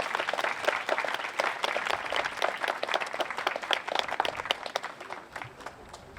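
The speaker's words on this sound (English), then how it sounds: "Please give them a round of applause." An audience at a 2019 Korean War memorial ceremony honoring veterans gives a round of applause: crisp, dense clapping from many hands that gradually thins and fades toward the end.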